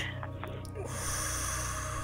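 A single sharp breath drawn in through the nose, close and brief, followed by a steady airy hiss of room noise.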